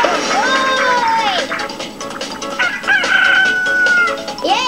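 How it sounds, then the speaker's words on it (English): Chickens cluck and squawk in the video game Billy Hatcher and the Giant Egg, loud bright cries rising and falling over game sounds while a person talks. "And there's our next chicken."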